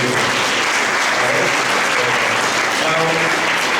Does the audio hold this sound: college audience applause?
yes